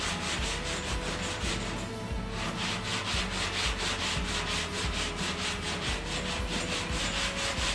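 Steady back-and-forth rasping of sandpaper hand-sanding body filler on a Fox Body Mustang, continuous and close, with a quick regular crisscross stroke rhythm and no talking.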